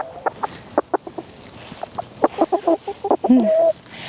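Several chickens cluck close by in short, irregular bursts, with a few longer drawn-out squawks toward the end.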